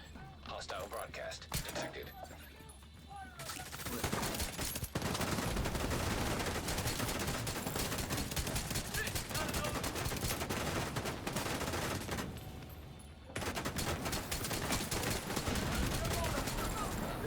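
Enemy gunfire in The Division 2 rattles in dense, loud automatic bursts and fusillades, nearly continuous with brief lulls and mechanical clanks mixed in.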